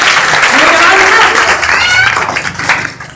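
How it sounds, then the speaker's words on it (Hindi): Audience applause at a 2019 Ambedkar Jayanti speech event in Kailash Nagar, Ghaziabad: dense, sustained clapping fills the room, fading toward the end, with a voice faintly audible over it. "तो एक बार मेरी ताली फिर से मेरे लिए, ठीक है?"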